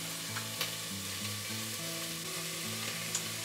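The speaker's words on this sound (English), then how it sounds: "Stir it around a little bit." Garlic, green onion, celery and green pepper frying in a soup pot with occasional stirring, a steady low sizzle beneath background music and a couple of soft clinks.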